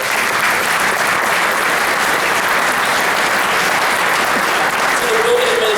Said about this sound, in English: but give them a round of applause.